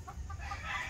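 A broodcock, a fighting rooster, clucks softly in short low calls, faint and close, against a quiet farm background.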